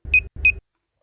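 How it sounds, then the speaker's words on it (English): Two short electronic beeps in quick succession from a Smart Stick Guardian device, bright and close, then silence. "Release the button once you hear a double beep sound."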